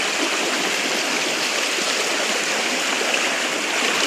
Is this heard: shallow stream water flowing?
yes